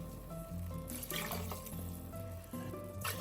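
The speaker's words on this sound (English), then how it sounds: "I'm gonna add 2 cups of hot water." Hot water, two cups of it, pours into a pot of Nigerian native jollof rice cooking with beef stock, making a continuous trickling, splashing flow that rises and falls over a few seconds.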